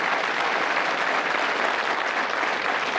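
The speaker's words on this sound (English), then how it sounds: "Give them a round of applause for a good try." A studio audience on a 1986 British game show gives dense, steady applause at close range, continuous throughout, with no talk over it.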